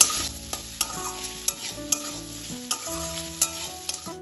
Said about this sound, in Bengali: আলুটাও তেলের সাথে ভালোভাবে ভেজে নেব